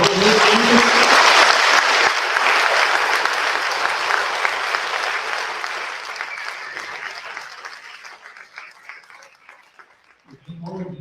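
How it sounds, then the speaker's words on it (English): An audience claps at a staged event, a long burst of applause that starts loud and dense and slowly thins and fades over about ten seconds, with a voice coming back in at the very end. "now we can give them all a nice round of applause"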